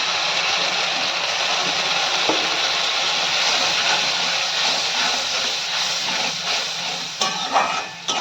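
Water poured into a hot pan of mustard-sauce okra hisses loudly and steadily, a broad continuous sizzle that holds for several seconds before easing slightly, with a few faint clinks near the end.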